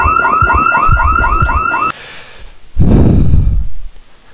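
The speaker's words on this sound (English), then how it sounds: "a zombie cannot trigger an alarm, but when a human person goes there, they can trigger it" Electronic alarm in the Project Zomboid video game blares loud repeating warbling tones for about two seconds, then cuts off, followed by a burst of broadband noise.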